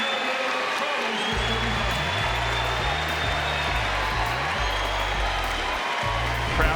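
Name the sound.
basketball crowd cheering at halftime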